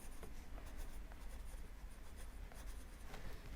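A pen scratches across paper as color names are written onto a color wheel, soft quick strokes with small taps, faint and close in a quiet room.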